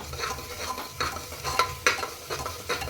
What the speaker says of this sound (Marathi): आता हा मसाला तेल सुटेपर्यंत भाजून घ्यायचा आहे